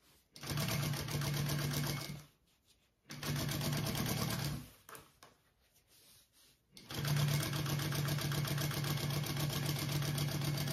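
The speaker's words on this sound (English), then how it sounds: "So you should be top stitching through your extra seam allowance" A sewing machine top stitches through a bag's seam allowance and lining in three steady whirring runs, loud and close, with brief pauses and a softer stretch between bursts.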